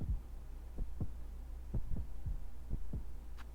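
Enlivened Heart of the Green Prince in Hollow Knight: Silksong, pulsing with deep, muffled thumps in loose lub-dub pairs, about eight beats over a steady low hum, with no voices.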